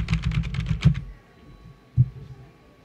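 A computer keyboard clatters in a quick burst of keystrokes, then falls quiet apart from a single later tap, recorded close and clear.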